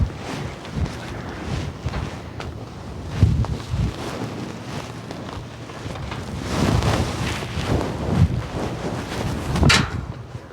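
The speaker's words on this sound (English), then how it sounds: "I got the wind blowing in my favor this way" Gusty wind buffets the microphone outdoors during horse halter training, a steady broadband rumble rising and falling throughout, with no voices.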